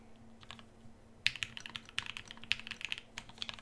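Mechanical keystrokes on an OBLITERATED75 prototype keyboard, starting after a quiet second and then running as a quick, uneven burst of close, crisp clicks and clacks, with no voices.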